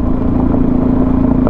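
Suzuki DRZ motorcycle engine running steadily while riding, a constant loud mid-pitched drone with a strong steady tone and no gaps.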